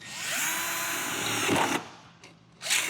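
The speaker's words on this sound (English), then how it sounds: "we got a center punch, and we will drill." A power drill whines steadily into the metal body of a widebody Porsche 911 for about two seconds, stops, then gives a short burst again near the end.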